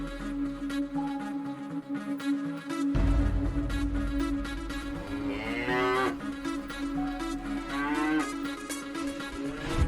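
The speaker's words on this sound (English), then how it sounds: "Cow." A cow moos in long, drawn-out calls on a farm, loud and close with a low droning quality, repeating over a steady rumbling background.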